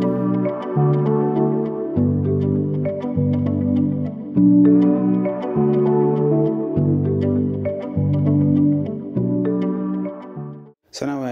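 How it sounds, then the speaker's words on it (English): A full ambient modern Afrobeat mix from FL Studio, with marimba, guitar and bass layered into a steady repeating groove, played loud and alone without drums. "So together, everything, it sounds like this."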